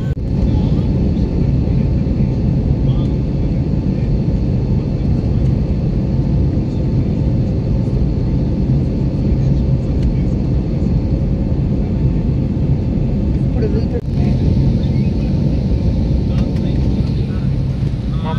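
IndiGo airplane cabin just after takeoff: a loud, steady low engine roar and rumble fills the whole clip, constant and unbroken, with a brief dip near the end and no clear talk.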